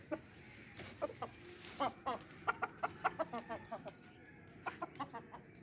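Aseel chickens cluck in a run of short, fairly quiet calls, clustered in quick bursts with brief pauses between them.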